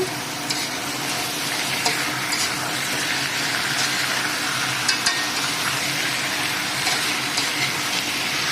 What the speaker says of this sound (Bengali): এইখানে মাংসটা দিয়ে দিচ্ছি দু কিলো মাংস আছে